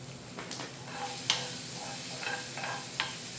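Anchovies stir-fry in a pan for a Cheongyang chili side dish, with a soft continuous sizzle and a few sharp scraping and clinking stirring strokes, close and moderately quiet.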